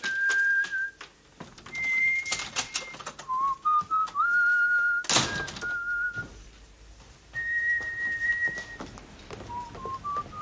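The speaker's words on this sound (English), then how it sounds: "I'll whistle and that. Do Ave Maria." A man whistles Ave Maria alone, with clear sustained notes and short slides between phrases, broken by a brief sharp knock near the middle.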